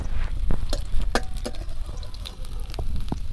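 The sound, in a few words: onion and green chillies frying in oil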